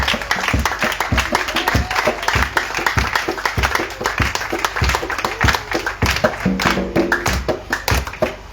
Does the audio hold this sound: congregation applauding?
yes